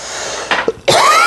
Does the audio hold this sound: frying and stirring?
no